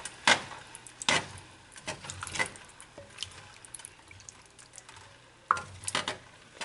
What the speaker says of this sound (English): I'm going to add 2 cans of tomato sauce from the cans I just rinsed out. Gonna give this a good stir